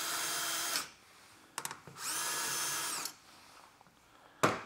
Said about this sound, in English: I'm gonna go ahead and pre-drill my next two screw locations.